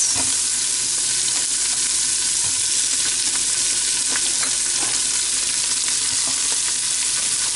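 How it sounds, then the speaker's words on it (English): Chopped onions and carrots fry in glossy fat rendered from chorizo sausage, a loud, continuous, close sizzle that holds steady throughout with faint stirring clicks. "So I'm going to add my onions and my carrots."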